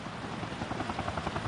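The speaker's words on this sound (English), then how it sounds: "you can hear the helicopters in the background" A helicopter's rotor thumps steadily in the background over sailing boats racing in the America's Cup, a faint rhythmic chopping over broad rushing noise.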